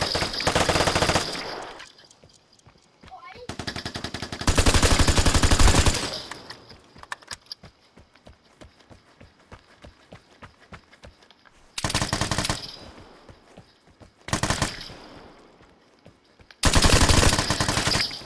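Heavy automatic gunfire in the video game Vigor, several loud close bursts of rapid machine-gun fire separated by quieter stretches of scattered clicks and distant shots.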